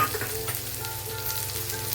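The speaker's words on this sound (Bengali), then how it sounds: "প্রথমেই দিয়ে দেবো কুচনো পেঁয়াজ পেঁয়াজটা হালকা হালকা ব্রাউন হবে আর ওর সঙ্গে পটলের বীজগুলোও দিয়ে দেবো" Chopped onion and pointed gourd seeds fry in oil in a pan, a steady close crackling sizzle with faint stirring and no voices.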